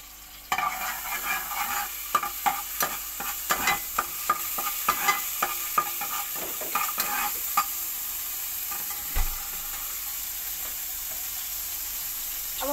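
Ingredients are stirred in a hot pan while making a pizza without an oven, a rapid series of close scraping and tapping strokes from a utensil over a continuous sizzle that settles into steady frying, with no voices.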